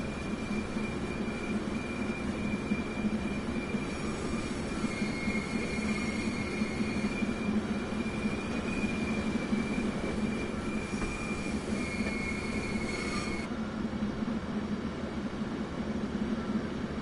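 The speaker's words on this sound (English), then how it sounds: "I do like the effect of the flange squeal on here." Steel wheels squeal against the rail flanges in Train Sim World, a sustained high whine riding over a steady rumble of rolling stock for most of the run, cutting off near the end.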